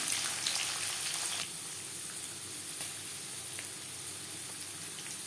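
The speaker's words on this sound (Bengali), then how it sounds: "হালকা করে ভেজে নেব" Chickpeas and grated coconut lightly frying together in a pan, giving a steady, broad sizzle with a few soft clatters, heard close up with no talking.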